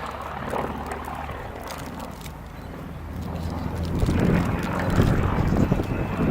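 Bristol Blenheim aircraft with a 400 horsepower engine flying past at an airshow, a steady engine drone with wind buffeting that swells louder toward the end.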